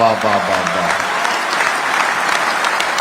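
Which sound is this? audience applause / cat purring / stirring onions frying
audience applause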